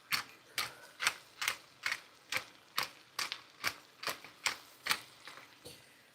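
Black cracked pepper is ground in a hand mill in a kitchen, giving about thirteen crisp, evenly spaced ratcheting clicks, each a short gritty burst, close and fairly quiet with no talking.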